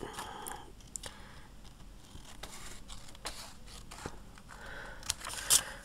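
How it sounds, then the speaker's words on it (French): Quiet snipping and scraping of small scissors cutting vellum paper at close range, with a few soft cuts and a sharper snip near the end. "on va prendre sa petite paire de ciseaux et on va couper jusqu'à la moitié"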